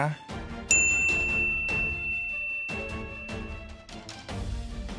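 A bright single bell ding chime used as a subscribe reminder, ringing out clearly over a rhythmic backing track.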